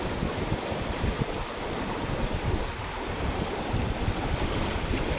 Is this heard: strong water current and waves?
yes